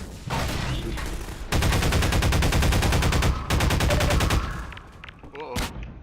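Rapid automatic gunfire from the video game Half-Life: Lost Coast, with dense bursts of close, loud shots that stop briefly and then resume before tailing off into quieter game sounds.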